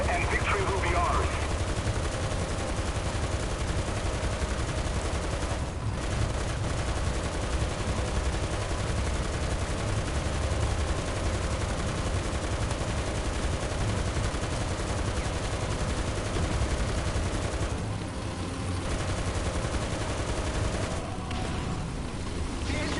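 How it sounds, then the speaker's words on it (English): Continuous machine gun fire rattles through a War Thunder tank battle, dense and loud with engine rumble underneath, pausing only briefly and carrying on for the whole stretch. "in realistic battles, you do not want to be firing your machine guns because that will give away your position of where you are at"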